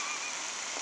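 Simulated rain sprayed on camera during a film shoot, producing a steady, dense hiss of water falling on surfaces with no pauses.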